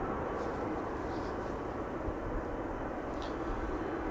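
An Air Astana airliner at Amsterdam Schiphol roars steadily from a distance, a broad continuous jet rumble and hiss that holds without breaks for several seconds.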